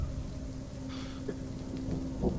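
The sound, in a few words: rain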